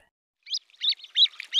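A grebe gives a short series of quick, high chirping notes in rapid bursts, clear and close after a brief silence.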